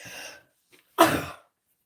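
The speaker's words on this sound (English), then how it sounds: "I felt it coming and I couldn't say I was going to sneeze before I sneezed." A single close indoor sneeze preceded by a short sharp inhale, loud and abrupt, then silence.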